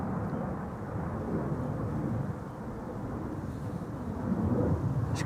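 An aircraft departing from the Polderbaan runway 36L at Schiphol on a windy day, a steady broad roar at distance mixed with wind rumble throughout.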